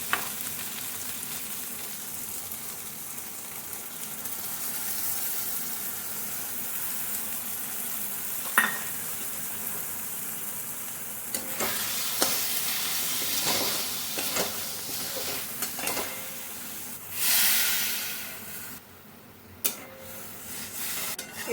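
Curry with a poppy seed paste fries in hot oil with a soft, steady sizzle, while sharper scraping and clattering stirs break in toward the end.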